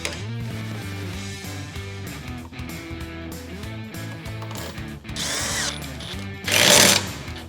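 A power drill drives bolts in repeated short bursts, its pitch rising and falling as it runs, with a louder high-pitched whine near the end.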